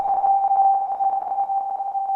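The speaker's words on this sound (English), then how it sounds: "the filter section can get so resonant that if you put noise through it, it can create like pitched noise or like notched noise." Resonant filter on a Replay synthesizer turning noise into a pitched tone, a steady whistling hum with a fluttering, breathy edge, moderately loud and alone.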